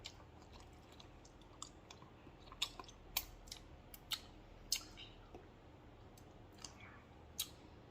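Close, quiet chewing of a mouthful of noodles from hot and sour soup, with soft wet clicks and bites scattered irregularly through an otherwise hushed stretch.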